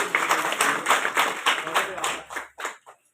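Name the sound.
audience clapping loudly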